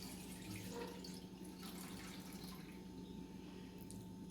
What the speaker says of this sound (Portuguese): Jogar 1 litro de leite.